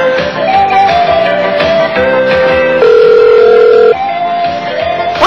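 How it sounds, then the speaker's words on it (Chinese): A telephone line with steady dial-tone and ringing tones, loud and continuous with no voices, including one sustained brighter tone lasting about a second partway through. "现在阿芝正想打电话给个 friend 跟他煲电话粥"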